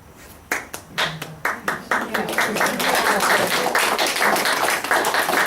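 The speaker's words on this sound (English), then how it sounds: "Can we have another round of applause for Definitely. staff four?" An audience bursts into applause, starting with a few separate loud claps that quickly swell into steady, dense clapping from many hands and holding at full level to the end.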